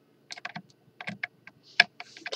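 Quick bursts of typing on a computer keyboard during a Roblox game, irregular clusters of close, crisp key clicks with short pauses between them.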